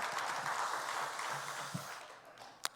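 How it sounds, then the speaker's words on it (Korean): A church congregation at a Sunday afternoon service gives a round of encouraging applause that fades away over a couple of seconds, ending with a single sharp tap. "우리 격려의 박수 한번 쳐주시면 감사하겠습니다."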